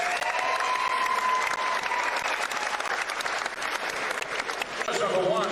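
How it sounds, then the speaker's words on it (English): Loud, sustained applause and crowd noise at a Muay Thai fight event, the audience clapping for both fighters continuously throughout with a voice briefly audible near the end. "can we get another big round of applause for both of these fighters?"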